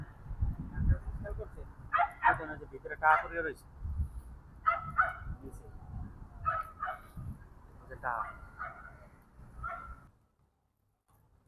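Ducks in a Swiss village give several honking, quacking calls in short bursts, moderately close, over a low rumbling background with someone talking.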